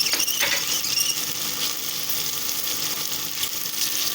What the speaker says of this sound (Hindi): हमने आलू मटर डाल लिए हैं, इसकी हम बुनाई कर रहे हैं।